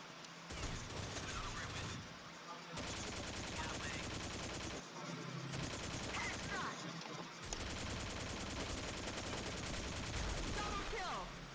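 A new machine gun in Counter-Strike fires long, rapid automatic bursts separated by short pauses, loud and continuous, with a voice talking faintly in the background.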